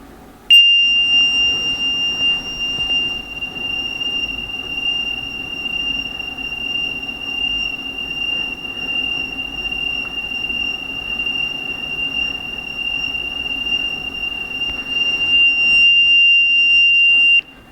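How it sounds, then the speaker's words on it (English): A steady, piercing high tone sounds continuously for about fifteen seconds as its source moves around the microphone, holding a nearly constant pitch over faint background hiss before cutting off abruptly. "that was a roughly continuous tone"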